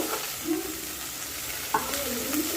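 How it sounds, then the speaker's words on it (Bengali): Green gram fries in hot oil in a pan with a steady, low sizzle, broken by a few scrapes and clinks of a spoon stirring. No one speaks. "গ্রিন কলাইটা একটু ভেজে নেব"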